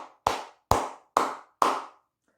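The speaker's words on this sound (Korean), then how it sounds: "크게 박수 한번 치고 가도록 하겠습니다" Four sharp hand claps ring out close to the microphone, evenly spaced about half a second apart, each decaying quickly, with no talking.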